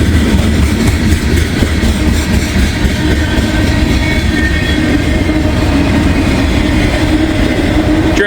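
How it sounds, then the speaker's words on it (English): A short CSX freight train carrying a couple of open auto racks rolls past close by, a loud, steady roar of rumbling wheels and rail noise with faint clatter throughout. "Train's not very long. A couple open auto racks there."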